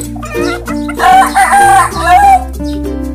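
A bantam Serama chicken crows loudly and close by, one drawn-out cock-a-doodle-doo with a few clucking notes, heard on its own.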